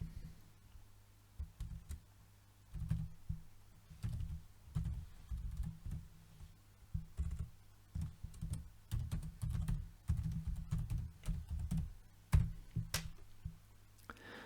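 Someone types on a computer keyboard while entering text into a presentation slide. The key clicks come in irregular quick bursts with short pauses, close and fairly quiet, with no talking.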